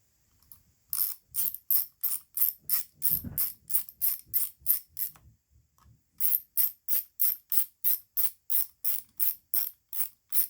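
A hand ratchet snugging the 8mm nuts on a Poulan 2050 chainsaw, rapid rhythmic clicking bursts repeated up close, pausing briefly before another run of even, crisp clicks.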